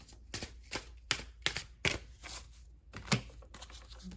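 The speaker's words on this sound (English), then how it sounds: "All right, one more shuffle." Tarot cards are shuffled by hand close up, a series of quick riffling bursts and soft slaps in an uneven rhythm.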